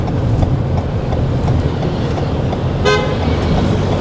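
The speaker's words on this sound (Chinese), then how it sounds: "刚刚前面的车有叭一声，对不对？按喇叭" A car ahead gives one short horn honk on a Taipei street, heard from inside a moving car over steady road and engine rumble. No one speaks.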